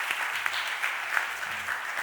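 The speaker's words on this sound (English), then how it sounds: "Please give them a round of applause." People at a city council meeting give a round of applause, a fairly quiet, brief patter of clapping from a modest crowd in a large room, with a few sharper claps standing out.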